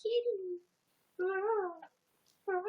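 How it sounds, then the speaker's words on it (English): A cat meows at close range, a short low mew followed by two longer rising and falling calls separated by brief silences. "Oh, look at that kitty."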